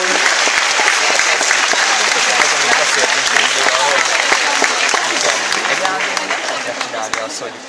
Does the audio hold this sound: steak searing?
no